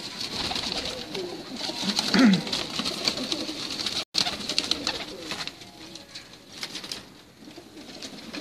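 Ferozpuri pigeons on a rooftop loft coo softly in repeated low, throaty calls over steady background hum, nearby and moderately loud.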